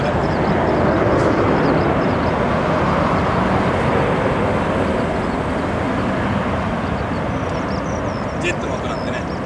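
A C-1 medium transport jet taking off from Atsugi Base: a loud, continuous jet roar fills the whole stretch, a broad steady rumble.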